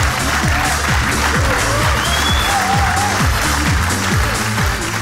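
A stand-up comedy audience applauds in a dense, loud, continuous wash of clapping that stays steady for the whole stretch.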